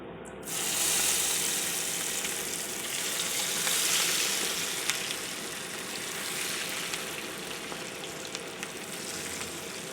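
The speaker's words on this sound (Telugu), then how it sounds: "ఒక 2 minutes ఫ్రై అవనిద్దామండి, కదపకుండా" Meal maker pakoda mixture deep-frying in hot oil, a loud, steady, dense sizzle that swells early and holds for the whole stretch with faint crackles and no voices.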